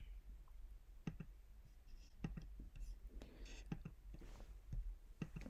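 Quiet computer mouse clicks land sparsely over several seconds while clicking through a Jenkins pipeline setup in KubeSphere, with soft whispered talk underneath.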